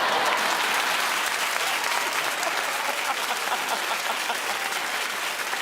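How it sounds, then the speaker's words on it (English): A television talk-show studio audience applauds loudly and continuously, a dense wash of hand claps from a large crowd with no break. "Keep clapping, everybody."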